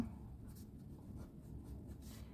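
Chalk or marker scratching across a board as names are written, a soft continuous scraping texture with faint strokes, steady and close, with no talking over it.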